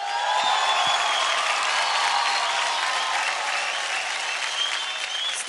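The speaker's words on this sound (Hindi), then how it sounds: "तो जोरदार तालियां हो जाए गीता की गैंग के डांसिंग स्टार्स पॉल और उर्वशी के लिए" On a televised dance show set, an audience breaks into loud, dense applause for dancing stars Paul and Urvashi, continuous clapping that holds steady throughout with a few brief cheers and murmurs underneath.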